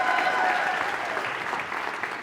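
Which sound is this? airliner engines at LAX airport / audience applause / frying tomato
audience applause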